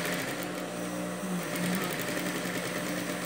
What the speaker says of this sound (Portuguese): é necessário aprender para você saber conduzir a máquina, dar controle para ela